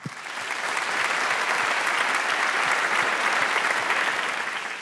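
A comedy show audience in Montreux breaks into applause that swells quickly and holds as a dense, steady wash of clapping, then begins to fade at the end.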